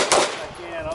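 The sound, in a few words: pistol shot fired from the holster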